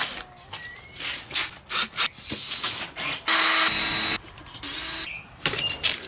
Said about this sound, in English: We'll drill those rivets out too, they're a bit loose.